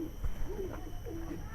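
A pigeon in a loft coos softly with a few low, drawn-out calls over a steady background hum, close but quiet.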